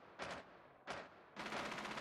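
Rainbow Six Siege gunfire on the Bank map: two short automatic bursts followed by a longer sustained burst, rapid and rattling, distant-sounding and fairly faint, with no talk.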